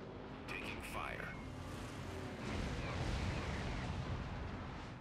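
Incoming naval gunfire in World of Warships, with the Implacable under fire, comes as a heavy rumbling barrage of distant booms over continuous low ship noise. Speech overlaps the opening.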